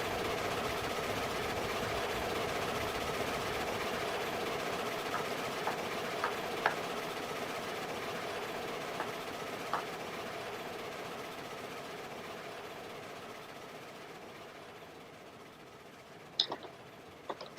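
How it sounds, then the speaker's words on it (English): Trains in the railway video game Railroads Online rumble with a low, steady engine drone and faint ticking, continuous and fairly soft throughout, with a couple of sharp clanks near the end. "If I come down this end, the trains aren't quite so loud"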